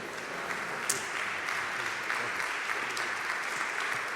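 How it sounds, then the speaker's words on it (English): An audience applauds to welcome a speaker at a Nation of Islam gathering, with steady, dense clapping that lasts throughout and no voices over it. "With a round of applause, please welcome the National Latino Representative of the Nation of Islam, Brother Student Minister Abel Muhammad."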